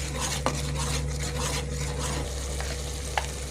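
Steady sizzle of frying in a pan for coriander-mint rice, with a couple of brief sharp clinks of a spoon stirring, continuous and close, with no talking.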